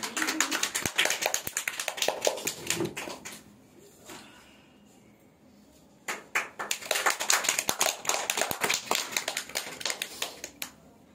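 A seated audience at an honouring ceremony in a Naihati cultural hall claps loudly and steadily for several seconds. The applause pauses briefly in near quiet, then rises again into a second full round of clapping.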